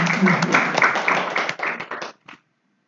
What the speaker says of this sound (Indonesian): Nggih, menak tepuk tangan